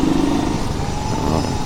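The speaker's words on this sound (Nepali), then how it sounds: "होस् किकले नै स्टार्ट गर्छु भने क्या।" A Chinese motorcycle with a faulty starter motor, kick-started and running, gives a loud, close, steady light-engine drone that holds without pause.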